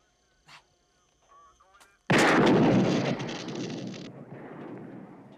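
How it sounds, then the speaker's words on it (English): Gunfire aimed at a police radio inside a car in the 1991 film Thelma & Louise: after brief faint sounds, a sudden loud burst of shots erupts and roars on, then fades into a lingering rumble. "Shoot the radio."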